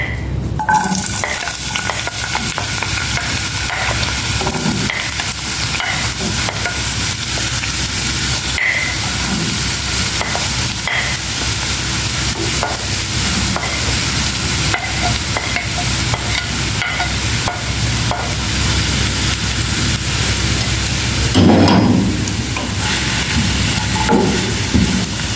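Onions and other ingredients for couscous sizzling loudly in hot oil while being stirred, a dense continuous frying hiss with scraping stir strokes, close and sustained throughout.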